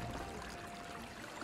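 Water pours steadily in a marsh area of the game Trine 2, a faint, continuous rushing stream with no pauses and no voices over it.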